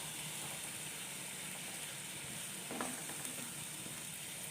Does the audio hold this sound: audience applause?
no